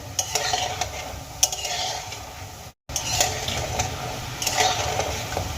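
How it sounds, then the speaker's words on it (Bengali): Gulab jamun balls frying in hot oil, stirred steadily with a spoon: soft continuous sizzle under repeated scraping and clinking against the pan, close and even, briefly cutting out midway. "আমি কিন্তু কন্টিনিউ নাড়িয়ে চাড়িয়ে এই বলগুলোকে ভেজে নেব যাতে সমস্ত দিক একই রকমভাবে ভাজা হয়"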